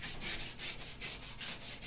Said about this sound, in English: And I can scrub those areas that have soap scum.